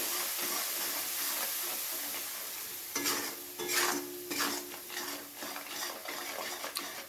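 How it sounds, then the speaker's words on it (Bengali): Onion and ground spices stirred and fried in a pan for a cauliflower, flat bean and potato curry: a steady sizzle throughout, then a run of scraping stirs and clinks of a utensil against the pan in the second half. "এবারে পেঁয়াজের সাথে খুব ভালো করে মশলাগুলোকে কষিয়ে নিতে হবে"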